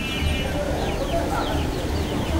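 Chickens on a home balcony give quick, scattered clucks and short calls over a steady, noisy background hum, fairly close but partly masked.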